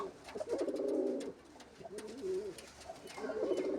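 Tanki pigeons, a male Shah Khan and a white-and-black female offered as a sale pair, coo close by in three rolling bursts with brief quiet gaps between them.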